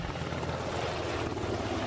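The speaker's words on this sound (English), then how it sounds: "These ships can carry 2 SH-60BR Seahawk helicopters." SH-60B Seahawk naval helicopter flying, a steady, dense rotor and engine roar with rapid low thumping blade chop, heard alone at moderate loudness.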